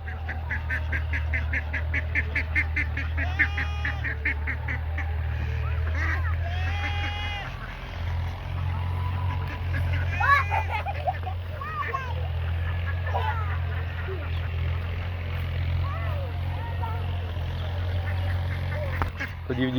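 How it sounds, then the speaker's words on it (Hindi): A flock of ducks gathering to be fed grain gives off scattered quacks and honking calls, fairly close, over a steady low engine-like hum, with people talking in the background. "तो जी फातिमा ने बतखों को दाने जो है वो डालना शुरू कर दिए और बतखें सारी इकट्ठी होकर आ गई"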